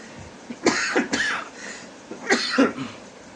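Two pairs of harsh coughs, close to the microphone, with a short pause between the bursts.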